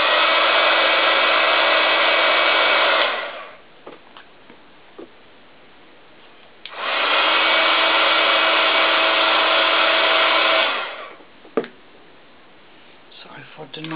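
A handheld dryer blows on a handmade stamped card in two loud, steady bursts of airy whooshing, each lasting about three to four seconds. Light clicks and handling noises fill the quieter gap between them.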